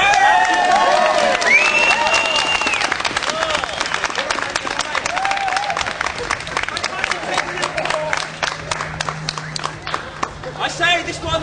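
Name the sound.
applause and cheering for Miss Cheese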